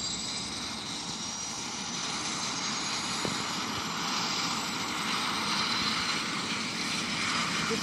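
Twin aircraft engines drone steadily in flight, a continuous broadband roar heard from inside the cabin with a faint high whine, constant and unbroken with no talk.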